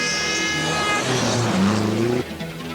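Rally cars, among them a turbocharged Nissan, race on a 1983 Sweden Rally stage, engines revving and changing pitch as they pass close by, with a brief skid before the sound drops away.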